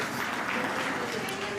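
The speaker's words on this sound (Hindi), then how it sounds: "जोरदार तालियां एक बार उठाएं।" A crowd at a comedic stage event gives a short, dense burst of clapping at a steady level from start to end, with faint murmurs mixed in.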